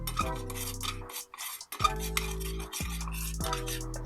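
Butter and flour stirred into a paste in a pan, a few separate bursts of scraping and clinking from a spoon against the cookware, close and fairly quiet, with short pauses between strokes and no talking.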